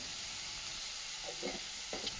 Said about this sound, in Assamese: মই সৰুকৈ টুকুৰা কৰি লোৱা আলু কেইপিচমান, আৰু সেইখিনি এভাপ মই ভাজি ল'ম